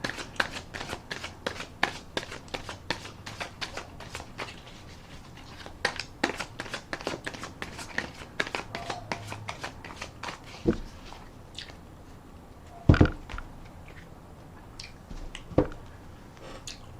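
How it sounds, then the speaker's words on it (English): Tarot cards are shuffled close up, with rapid riffling flutters and crisp snaps in quick bursts. A few louder slaps and taps come near the end. "but I'm going to put another rifle and shuffle on."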